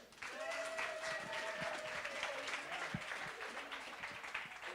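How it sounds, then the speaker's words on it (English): An audience at a live speaking event claps for the next speaker in a dense, sustained round of applause that swells and holds, with a voice and a faint tone briefly audible over it. "A fun round of applause for Huntley."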